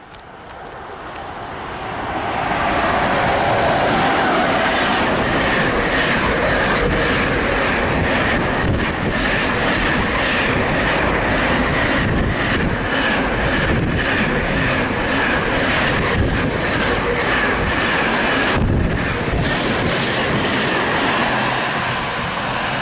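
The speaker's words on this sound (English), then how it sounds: "passing through now is a pair of Freightliner Class 90s, heading from Daventry to Coatbridge" Pair of Freightliner Class 90 electric locomotives hauling freight from Daventry to Coatbridge through Nuneaton on the West Coast Main Line, a loud rushing roar building quickly and then holding steady and close, with heavy wind buffeting.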